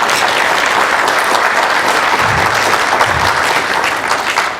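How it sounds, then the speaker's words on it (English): Audience applause after a conference talk on women in open technology and culture, a dense, steady wash of clapping from a large crowd that fills the whole stretch at full loudness, tapering slightly at the very end. "Round of applause, please."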